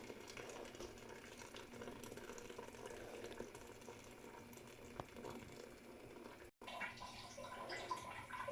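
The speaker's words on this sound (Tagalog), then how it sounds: "lagyan na natin guys ng mainit na tubig" Hot water is poured into a cooking pot over chicken pieces, producing a steady, faint splashing and trickling stream that runs continuously with a brief break near the end.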